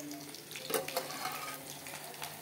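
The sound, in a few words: okra (bhendi) being fried in a pan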